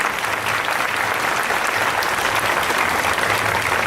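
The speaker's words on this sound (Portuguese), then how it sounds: "Salva de palmas para o menino Jesus." A church congregation applauds during a Christmas Mass, a steady dense clapping that holds at an even level throughout.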